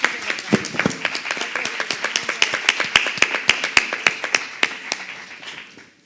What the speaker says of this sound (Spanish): Y se merece un aplauso muy grande.